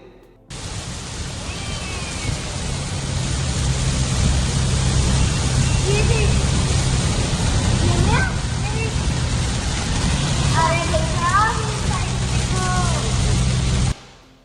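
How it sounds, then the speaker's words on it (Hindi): Heavy rain in Dubai heard from inside a car, a steady broadband wash of water drumming on the vehicle with a low rumble beneath, constant for most of the stretch before cutting off abruptly near the end. "जब मैं गाड़ी में बैठा हूं वहां ये बारिश देखो"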